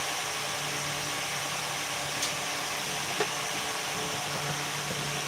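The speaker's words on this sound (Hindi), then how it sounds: "एक बार कमेंट करके बता दो कि पंखे की आवाज़ आ रही है" An electric fan whirs continuously in a room, a steady airy hiss with a faint low hum and a couple of small ticks, nearby and unchanging, no voices.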